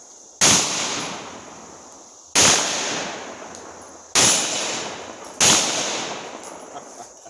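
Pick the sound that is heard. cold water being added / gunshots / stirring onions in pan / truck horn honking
gunshots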